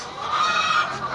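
Farm chickens clucking continuously at close range, a steady busy flock sound with no talking.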